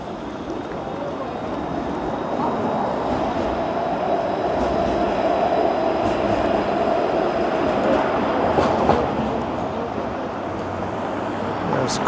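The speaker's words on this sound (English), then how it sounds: "There's College subway station." A Toronto subway train at College station on Yonge Street: a continuous low rumble and rolling rail noise, with brief metallic squeals, heard from nearby and holding at a steady loud level throughout.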